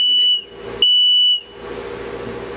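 High temperature alarm of a controlled environment room, a loud piercing electronic beep sounding in two long pulses with a short gap between them, close and alone.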